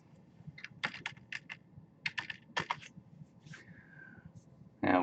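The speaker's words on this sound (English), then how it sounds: "So when we type in the definition" Someone types on a computer keyboard in bursts of quick, close clicks with short pauses, over low room noise, ending in a louder thump.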